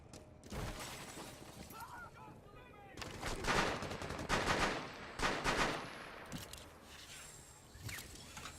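A glass bay window shatters in Rainbow Six Siege, bursts of breaking glass and gunfire crashing in several loud waves amid game noise, with someone speaking French over the action.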